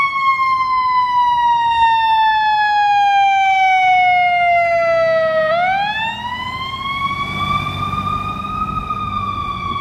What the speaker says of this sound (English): And here comes sirens, Wilmington, North Carolina. It's an ambulance.